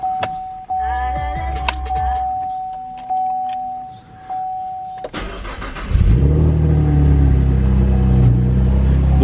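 A car engine is started with a physical key instead of push-button start: dashboard chimes and a soft whirr first, then the engine cranks and catches into a loud, steady idle with revving.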